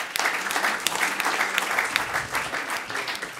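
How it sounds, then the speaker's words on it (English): A conference audience at a session on decarbonizing building materials claps for the panelists, a dense, even wash of applause at close range that holds steady for a few seconds without any speech. "A round of applause for all of our panelists."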